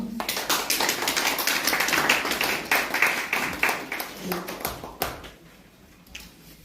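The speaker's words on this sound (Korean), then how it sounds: "나오실 때 환영의 박수, 주제 발표 박수." An audience in a large conference hall in Seoul, gathered for a forum and symposium, claps in welcome as a speaker comes forward, with many hands clapping steadily before the applause thins out and fades.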